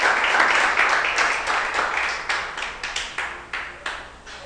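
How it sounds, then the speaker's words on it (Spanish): Congregation applauding during a church worship service, a dense wash of many hands clapping that gradually thins and fades, leaving scattered sharper claps near the end. "Dale un aplauso al Rey, porque Él vive y reina por los siglos de los siglos."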